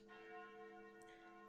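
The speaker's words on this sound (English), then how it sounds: "Those sound like the church's noontime bells." Church bells ring out in the video game Sucker for Love, sounding faint and distant as sustained, overlapping metallic tones that hum on without a break.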